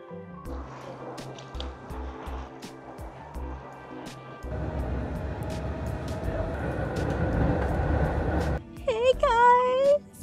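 A metro train ride in Greece, with the rumble of rail cars rolling and rising in loudness, brief speech in the background, and a sharp squealing screech of brakes or wheels near the end.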